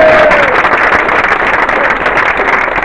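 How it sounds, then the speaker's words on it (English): A parkrun crowd in Edinburgh gives a dense, steady round of applause outdoors, a loud continuous wash of many hands clapping throughout. "So big round of applause!"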